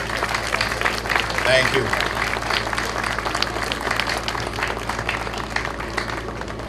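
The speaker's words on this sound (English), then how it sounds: "please give me a round of applause" Audience applause at a Day of Portugal opening ceremony, a sustained crowd of clapping hands filling the room for several seconds, with a voice speaking briefly over it.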